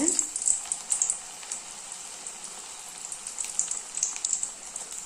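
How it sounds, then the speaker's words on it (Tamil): Poha (flattened rice) fries in well-heated oil for a homemade mixture snack, a bright, continuous crackling hiss with small bursts, close and fairly loud, with no talking. "நம்ம அவுள் பொறிச்சு எடுத்துக்கலாங்க"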